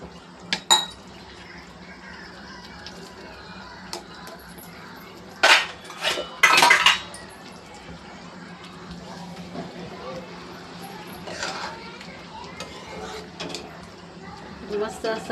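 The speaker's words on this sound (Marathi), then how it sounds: "मिक्सरच्या भांड्यातला राहिलेला पण धुवून घेते मी थोडंसं" A mixer grinder jar being rinsed out in a home kitchen, with scattered clinks of the vessel and a few short bursts of running, splashing water among quieter handling noises.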